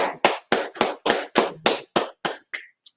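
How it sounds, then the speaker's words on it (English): Sharp, evenly spaced hand claps ring out about ten times in a brisk rhythm, loud and close with crisp gaps between them, from a group at a church gathering. "Clap it up."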